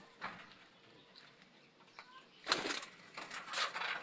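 Pigeons in a backyard loft, faint soft sounds early, then a louder burst of wing flapping and rustling from about midway that recurs toward the end, with light coos mixed in.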